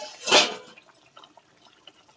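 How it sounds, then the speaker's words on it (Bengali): Water poured into a pan of simmering koi fish curry in a home kitchen, a brief splashing gush at the start followed by faint scattered drips and bubbling. "এবারে জল দিয়ে দিই।"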